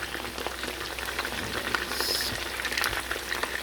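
Chicken teriyaki fries in a pan, a steady close crackling sizzle with fine spitting pops and no talk.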